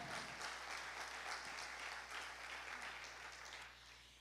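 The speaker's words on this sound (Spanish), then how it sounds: "Dale fuerte ese aplauso al Señor" Congregation applauding the Lord during a Spanish-language family church service, a dense, sustained wash of many hands clapping at moderate distance that fades slightly toward the end.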